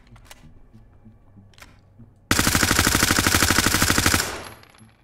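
Automatic gunfire in the tactical shooter game Ready or Not, a loud sustained burst of rapid shots lasting about two seconds that then trails off, following a few quiet clicks.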